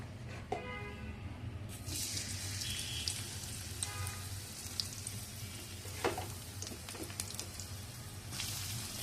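Chopped garlic and dried chilies fry in a pan with koloi greens nearby, giving a steady crackling sizzle throughout with a few sharper pops and spatters close by, no voices.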